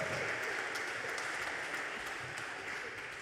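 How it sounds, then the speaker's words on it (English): Sustained applause from a crowd, steady and full throughout, gradually easing slightly toward the end. "one more big round of applause and another big bow from Elizabeth Jardine."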